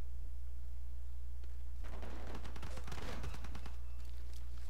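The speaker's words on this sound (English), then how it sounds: "I think they can survive the cannon and the Gatling gun hit" A cannon and Gatling gun attack in Civilization V, heard as a rapid burst of gunfire crackle lasting about two seconds over a steady background hum.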